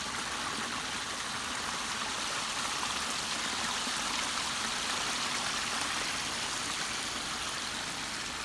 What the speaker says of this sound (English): All right, here is the finished waterfall.